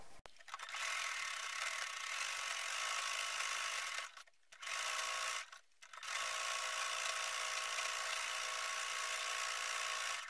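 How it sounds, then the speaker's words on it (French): A sewing machine overlocks the raw edges of fabric for a shopping bag, running in a steady, loud mechanical whir that stops briefly twice and then carries on. "Moi je vais surfiler avec ma machine à coudre."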